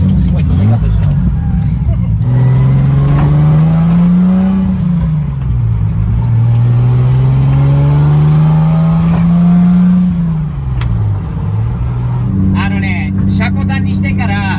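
A Datsun 240Z (S30 Fairlady Z) with freshly tuned carburetors drives along, its engine revving up and down through gear changes and loud and close throughout, with faint voices in the cabin.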